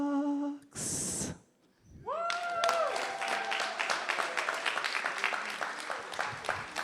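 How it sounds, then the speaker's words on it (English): An audience at a church gathering claps after a short tonal sound and a gap. The clapping starts moderately, then grows into steady, fairly close applause that carries through to the end. "Let's give her another round of applause."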